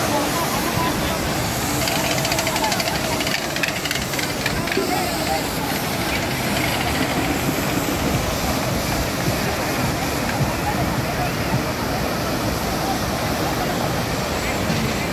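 A steady, broad roar of rushing water from Bhatinda Falls near Dhanbad, Jharkhand, fills the whole stretch without letup, loud and constant like a nearby waterfall.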